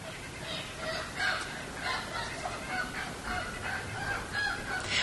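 A hen squawks loudly and repeatedly at a rooster in a backyard flock, harsh honking cries in uneven bursts, fairly close and alone without talk.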